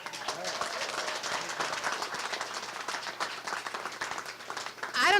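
An audience claps at a 2019 Detroit census press conference, a steady wash of near applause that swells louder at the very end.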